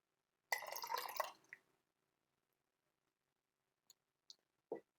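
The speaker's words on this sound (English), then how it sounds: "So now what we can do is we can pour in the Hojicha into the oat milk." Brewed hojicha tea pours into oat milk in a short liquid splash lasting about a second, followed by silence and a few faint drips and small clinks.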